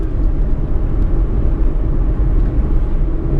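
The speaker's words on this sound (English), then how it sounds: "Those downshifts sound so brutal." An Aston Martin Vanquish engine rumbling through downshifts, a deep, dense low-frequency roar with pulsing fluctuations, loud and close throughout.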